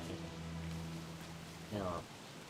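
Rain in the video game Don't Starve, a steady hiss of falling rain under a player's voice, with a brief louder swell near the end.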